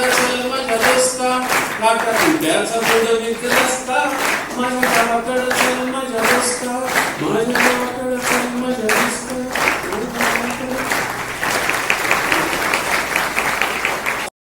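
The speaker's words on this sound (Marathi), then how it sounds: "तुम्ही टाळ्या वाजवायला सुरुवात केली" Audience applause during a Marathi poem recitation, a dense, steady roar of many hands clapping that runs loud and continuous throughout, with a faint musical tone beneath in the first part.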